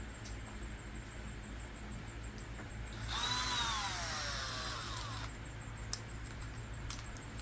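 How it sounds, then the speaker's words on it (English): An electric drill spins a small SCX24 RC crawler tire, giving a rising, whining buzz that runs for about two seconds up close before it stops, then a few faint clicks. "once you attach it to a drill, now you can spin it"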